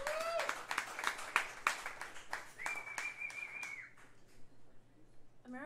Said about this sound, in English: Can everyone clap it up again for Ian and Eden?